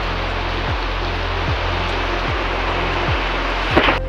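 Heavy rain falls in a constant, loud wash of noise, with a low engine-like hum and regular dull thumps recurring underneath.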